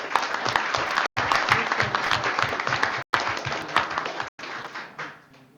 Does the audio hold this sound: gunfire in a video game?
no